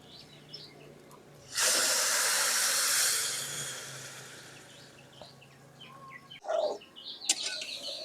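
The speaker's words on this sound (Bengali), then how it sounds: "তো এখন গরম পানি দিয়ে দিব।" Hot water hits fried broken rice in a hot pan and erupts in a loud, bright hiss that bursts suddenly, holds for about a second and a half, then fades into a softer simmer.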